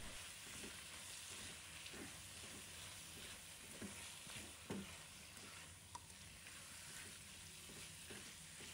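Beef stir-fried in a wok with a steady, loud sizzle and irregular scraping strokes of a spatula tossing the meat throughout.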